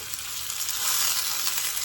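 Pork tenderloin sears in hot oil with a loud, dense, continuous sizzle close by, steady throughout with no talking.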